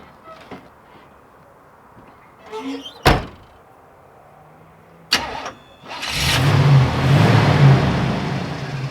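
A car door thunks shut twice, then an engine cranks and catches into a loud, rough revving that fills the rest of the stretch, close by on a street.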